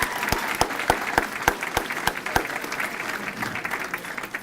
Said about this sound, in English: Can we give Steve around another round of applause